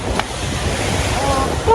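Strong sea waves after heavy rain surge and wash against the shore, a loud broadband roar mixed with gusty wind noise on the microphone, brief and continuous.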